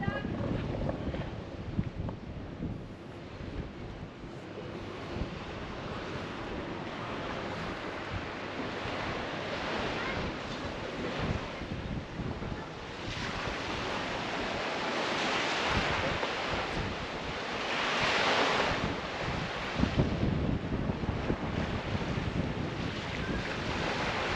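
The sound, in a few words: waves at the beach in Kalyves, Crete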